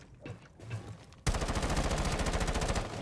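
Rapid automatic gunfire from a video game during an esports match: after a quieter opening, a sustained, evenly spaced burst of loud shots runs without a break to the end.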